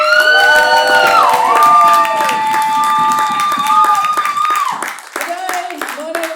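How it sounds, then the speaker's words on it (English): A comedy club audience on a live late-night show breaks into loud cheering, whoops and clapping as a comedian is introduced, a sustained crowd roar with bright shouts that thins into scattered claps and voices near the end. "Guys, get a round of applause going for my man, Joe Marshall!"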